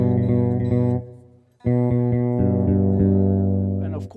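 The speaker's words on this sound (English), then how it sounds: "So a bass, for instance, would sound like this." Synthesized bass tones from a guitar fitted with a GK3 pickup and run through MIDI Guitar 3 software play loud, sustained notes with a short gap mid-phrase, close and alone.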